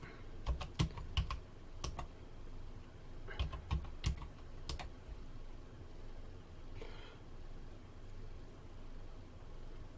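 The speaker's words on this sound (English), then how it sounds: "keyboard works, DOS works." Keys tapped on a Tiger Learning Computer keyboard in a workbench setting: a few quick bursts of sharp, close clicks separated by pauses, followed by a quiet background hum.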